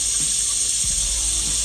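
Water trickles and hisses steadily into a hydroponic reservoir through a float valve, a constant close flow with a few low gurgles and bumps underneath.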